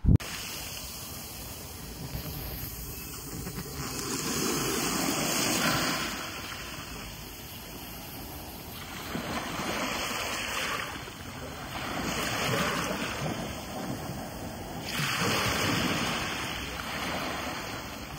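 Sea waves washing onto the sandy beach at Clacton-on-Sea, England, with several broad surges swelling and receding in slow rhythm under steady wind noise, no talk.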